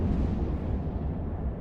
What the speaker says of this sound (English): I do like the new explosions though.